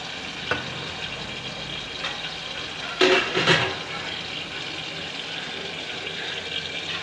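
Steady bubbling hiss of a pot of salted vegetables, including drumsticks, boiling in water, with a brief louder surge of bubbling and clatter about midway.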